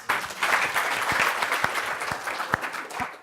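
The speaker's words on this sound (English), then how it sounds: "And another round of applause for Dr Bill Lyons." Sustained audience applause fills a hall after a talk on living in iconic houses, dense steady clapping from a crowd with a few sharper individual claps standing out near the end.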